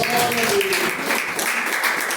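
Congregation applauding during a Portuguese-language evangelical church service, a steady wash of clapping mixed with voices and some tonal sound, moderately loud throughout.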